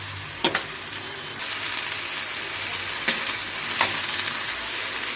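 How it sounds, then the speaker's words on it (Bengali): Onion paste frying in a pan with a continuous close sizzle, broken by a few sharp scrapes and knocks as it is stirred. "পেঁয়াজ বাটাটা দিয়ে দিচ্ছি। পেঁয়াজটাও কষে নিচ্ছে।"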